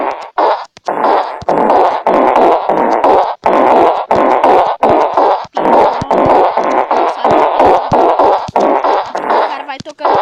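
Fart sound effects from an app are tapped out rapidly like notes on a piano, forming a dense, loud, nearly continuous stream of short blasts with only brief gaps.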